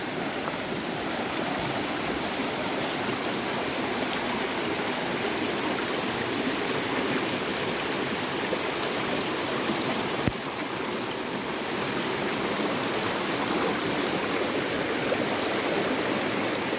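Handibhanga Waterfall, a mountain stream and waterfall in Keonjhar district, Odisha, rushes in a steady, loud, close hiss of falling and flowing water, unbroken throughout with no talking.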